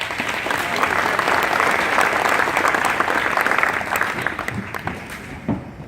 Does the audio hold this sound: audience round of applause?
yes